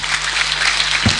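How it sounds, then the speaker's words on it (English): Applause from the congregation at a university graduation ceremony, a steady wash of clapping with no gaps, heard briefly and close. "A round of applause for him."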